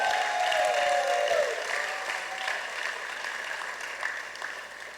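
A church congregation applauds during a Spanish-language worship service, a steady dense wash of clapping from many hands that holds for several seconds, with a brief voice fading out at the start.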